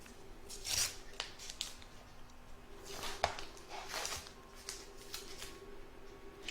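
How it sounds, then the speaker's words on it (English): Scissors snipping stray threads and excess fabric from an in-the-hoop embroidered towel topper, a few scattered close, crisp cuts with rustling fabric between them, quiet and without speech. "I'm just going to trim up the little threadies there."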